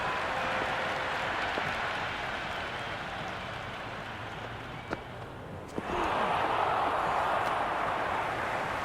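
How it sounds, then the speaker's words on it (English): Stadium crowd at the MCG in the cricket video game Cricket 26, Pakistan versus India, a dense continuous roar of applause and cheering that swells louder toward the end, with a couple of sharp knocks. "The crowd is electric right now."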